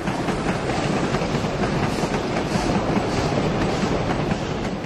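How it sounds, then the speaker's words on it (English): Steam Rail Victoria's snow train crosses Richmond Junction in Melbourne with a steady, loud rumble and rhythmic clatter of wheels over the pointwork, continuous and close, with no voices. "we see Steam Rail Victoria's snow train crossing over from Platform 10 to the Caulfield Local"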